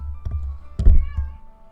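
A house cat meows a few times close by, short low calls with a soft thump among them, indoors at a gaming desk.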